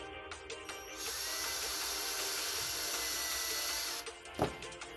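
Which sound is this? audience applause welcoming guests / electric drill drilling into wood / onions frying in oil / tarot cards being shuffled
electric drill drilling into wood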